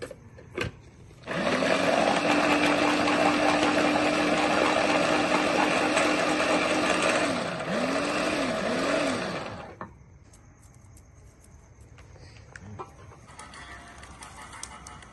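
An electric mixer grinder blending garlic into paste, a loud steady whirring motor running for several seconds with a couple of brief pitch dips before stopping, leaving a quiet room.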